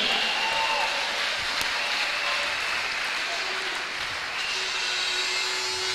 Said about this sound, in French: Acclamons le Seigneur bien-aimé.